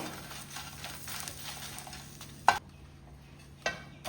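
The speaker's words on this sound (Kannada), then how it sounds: "ಎಣ್ಣೆ ಹಾಕ್ಲಿಕ್ಕಿಲ್ಲ ಡ್ರೈ ಆಗಿಯೇ ರೋಸ್ಟ್ ಮಾಡಲಿಕ್ಕೆ" Curry leaves and peppercorns dry roasting in a pan without oil, giving a soft continuous rustle with scraping stirs and two sharp clacks of a spoon against the pan.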